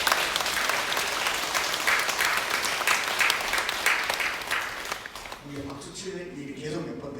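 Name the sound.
audience applause at lecture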